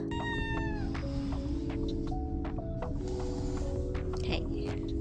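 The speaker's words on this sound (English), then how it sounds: "So with the amount of cats around, there were at times cat fights." Cats fight in a busy cat cafe with close, loud yowling and caterwauling, rising and wavering growls and hissy meows, over a constant steady background hum.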